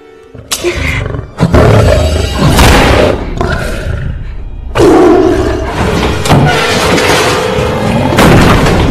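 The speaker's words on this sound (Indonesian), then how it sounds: "Saat pas samprok sama harimau buas itu, Kelly langsung melepas tembakan, namun gagal." A tiger roars in a film scene, loud, deep bursts recurring across the stretch, one sharp blast near the start, with no talk over it.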